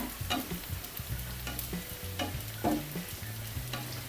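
Dried red chillies are added to sizzling oil in a pan while cooking a mango and anchovy curry, with a steady close frying sizzle and repeated rhythmic stirring scrapes and taps.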